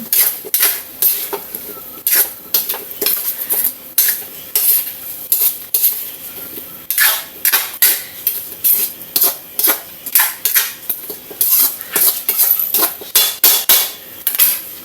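A pot of pakbet vegetables with malunggay gets stirred, producing loud, repeated metallic scrapes and clanks of a spoon against the pot in an uneven rhythm, close up and with no talk.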